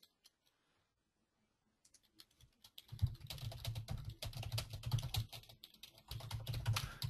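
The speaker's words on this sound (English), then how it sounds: "I'm going to type in" Fingers type on a computer keyboard, a brief isolated tap and near-silence at first, then a dense, quick run of close plastic key clicks that pauses briefly and resumes.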